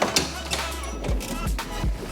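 Hammer blows driving an old suspension bushing out of a car's suspension arm, several sharp metallic strikes spaced roughly half a second apart, close and loud.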